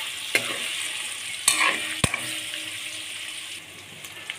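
Paneer fries in hot oil with a pinch of turmeric, a soft steady sizzle broken by a few sharp clinks and scrapes of a spoon against the pan.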